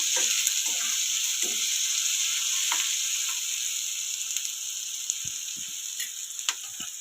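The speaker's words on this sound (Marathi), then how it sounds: "मिरची टाकूया आपण कांदाला लालसर करायचा नाही फक्त नरम करायचा" Onions and green chili frying in a pan for an aloo sabji, a loud continuous close sizzle with occasional ticks and light spoon or pan knocks, no voices.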